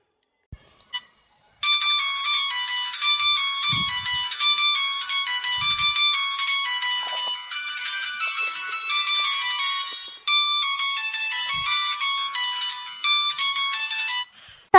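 A mobile phone rings with a bright electronic melody that starts after a couple of seconds of near silence, repeating in phrases with a brief gap near the ten-second mark, loud and close, with faint knocks underneath.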